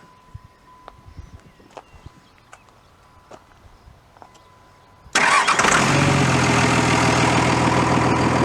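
A truck engine with an AFE cold air intake cranks and fires up after a few quiet seconds of faint ticks and shuffling, then settles into a loud, steady, close idle.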